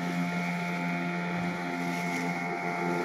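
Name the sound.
two boats racing on the sea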